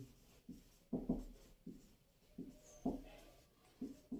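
Chalk or marker strokes on a classroom board, a series of short scratchy bursts in uneven rhythm, fairly close and alone with faint room noise.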